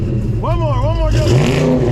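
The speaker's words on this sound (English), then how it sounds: "Can you get in there and rev it up a little bit?" A Paxton supercharged 306 Foxbody Mustang GT engine revs up and settles back, a loud throaty swell and fall over a rumbling idle, with people talking alongside.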